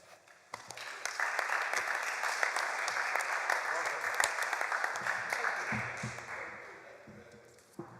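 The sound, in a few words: audience applauding the speakers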